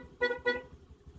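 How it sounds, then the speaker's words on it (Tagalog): A vehicle horn gives two short, loud honks in quick succession, close by, followed by quiet idling. "Busina."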